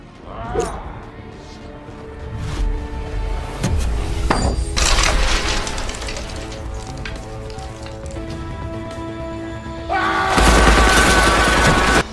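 Bursts of gunfire crack out amid a busy, noisy action scene, with scattered shots early and a dense, loud volley near the end.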